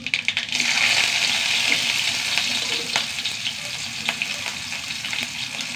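Fenugreek seeds and sliced shallots fry in oil, a loud, constant close crackling sizzle with a few faint scrapes and clicks, no voices.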